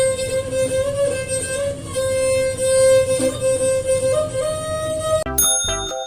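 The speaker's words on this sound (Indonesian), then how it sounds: "Keso-keso adalah alat musik tradisional gesek yang berasal dari Sulawesi Selatan." Keso-keso, a traditional bowed string instrument from South Sulawesi, plays a sustained, slightly gliding melody over a busy accompaniment, followed by a few bright bell-like tones at the very end.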